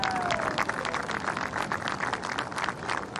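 Hometown golf gallery applauding after Lexi's 9-iron approach at an LPGA tournament, a steady wash of clapping from a distant crowd sustained throughout without speech.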